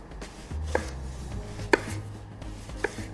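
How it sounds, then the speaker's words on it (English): A knife cuts in-season vegetables into wedges after the stem end is removed, three separate sharp chops against a board spaced about a second apart, close and clear over a low background hum, no voices. "my favorite way to cut them is to just take out the stem end and cut them in wedges like this"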